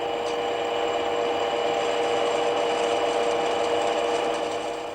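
A lathe cuts a metal workpiece with a steady, loud mechanical whine and hum that holds constant throughout, with a faint rasping texture from the cutting tool.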